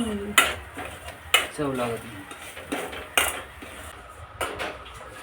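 Cashew masala gravy being roasted and stirred in a pan, with sharp metallic knocks and scrapes of a spoon against the pan in uneven bursts over a faint sizzle, no voices.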